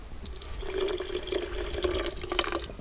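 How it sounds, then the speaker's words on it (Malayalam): Water pours steadily into a pan holding sugar for jalebi syrup, a close, continuous splashing gush lasting a few seconds. "നമുക്കിതിലേക്ക് ഒരു 1/2 ലിറ്റർ വെള്ളം കൂടെ ഒഴിച്ച് കൊടുക്കാം"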